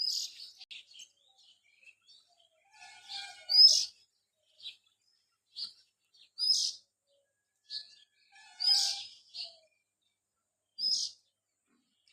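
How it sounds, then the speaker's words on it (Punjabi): Bright, high sparrow chirps in the morning come in short bursts spaced a second or two apart, with quiet gaps between. The calls are fairly close and there is no talking. "ਇੱਥੇ ਇੰਨਾ ਸੋਹਣਾ ਚਿੜੀਆਂ ਬੋਲਦੀਆਂ ਨੇ"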